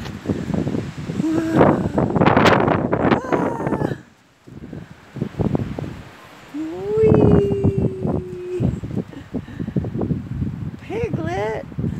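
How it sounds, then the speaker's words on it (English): Strong wind gusting outdoors, rising into a loud rushing swell with people talking and exclaiming over it throughout. "Ooh, here comes the wind again."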